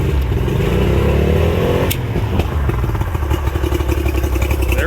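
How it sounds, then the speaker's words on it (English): An old two-stroke outboard engine on a party barge pontoon boat revs up, a loud, close rattling buzz with a rising pitch, then settles into a steady idling clatter. "let's go ahead and reach over and rev this thing up"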